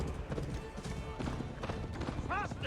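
Horse hooves clip-clop at a gallop in Assassin's Creed Valhalla, a steady rhythmic beat beneath game music and character talk, with a brief whinny near the end.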